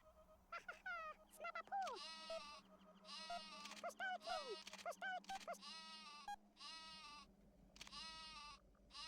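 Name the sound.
sheep bleating in Worms Armageddon video game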